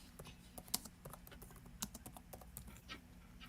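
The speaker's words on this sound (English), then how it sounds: "Sound like you typing." Faint, quick keystrokes patter on a computer keyboard, an irregular run of soft clicks with a few sharper taps, picked up over a quiet live-stream call.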